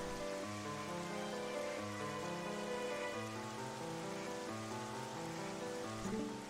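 Steady rain patters in The Legend of Zelda: Twilight Princess over a soft background, with low sustained music tones playing underneath throughout.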